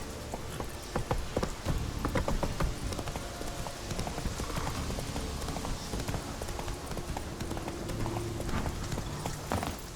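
Horse hooves clip-clop steadily at a trot in The Witcher 3, a close, continuous rhythmic clatter that runs throughout, with a brief whinny from the horse.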